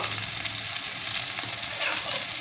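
Chopped tomatoes sizzle loudly in a frying pan while being stirred, a dense, continuous hiss with soft scraping movements running through it.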